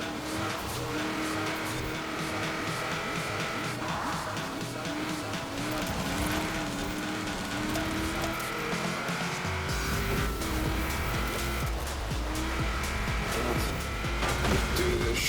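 Widebody 1997 Mazda RX-7 racing in Forza Horizon 4, its engine droning loudly and steadily throughout with tire squeal rising over it, game music or effects underneath and no talk.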